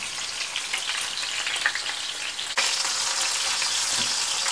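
Fish fries in hot oil with a dense, continuous sizzle that swells louder partway through, close and steady with no talking.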